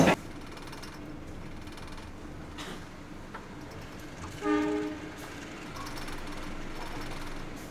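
Steady rumble and clatter of a moving Kahuripan passenger train between Kediri and Jogja, with a brief horn-like tone midway, heard from inside the carriage.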